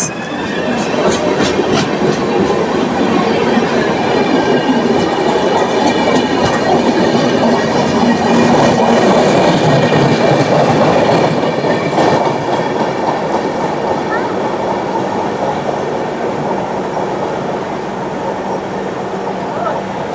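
The Sikkim Mahananda Express, a passenger train, rolls out of Dalkhola. Its wheels clatter loud and steady on the rails from close on board, with rhythmic clicks over the joints throughout.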